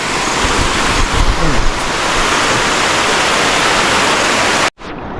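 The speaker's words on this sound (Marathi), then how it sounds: "तुम्ही बघू शकता इथे एक नैसर्गिक झरा आहे" A natural spring in the Konkan countryside pours water in a loud, steady broadband rush close by, continuous for about five seconds before a brief cut.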